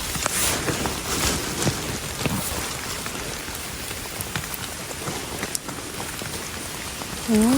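Steady rain pours down outdoors during a wet season when termite mushrooms are sprouting, a dense even hiss of drops on surfaces lasting throughout, with a short tonal sound near the end.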